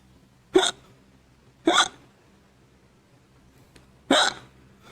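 Three sharp hiccups from a person trying to sleep, evenly spaced about a second apart with a longer pause before the last, each a short breathy gulp close up in a quiet room.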